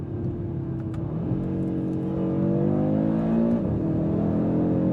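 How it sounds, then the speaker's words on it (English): A 2024 Audi RS3 engine revving up with rising pitch, then a quick paddle upshift and a drop, heard from inside the cabin, steady and fairly loud. "when I pull that paddle, it's a prompt shift up"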